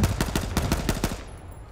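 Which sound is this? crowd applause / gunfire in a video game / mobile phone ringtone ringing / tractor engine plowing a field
gunfire in a video game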